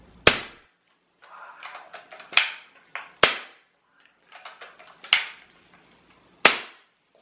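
Five sharp, muffled pops from an airgun fitted with a Taipan Veteran suppressor, irregular intervals, each a short crack with quick decay, with faint mechanical clicking and handling noise between shots.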